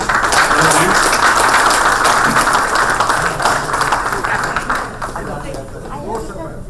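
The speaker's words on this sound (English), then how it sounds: "I would appreciate a round of applause for them" At the BCIC annual general meeting, an audience gives a round of applause for past presidents, a sustained, even clapping from many hands that fades slightly toward the end.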